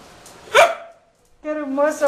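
A male boxer puppy lets out one sharp bark on command, followed after a brief pause by a person speaking nearby.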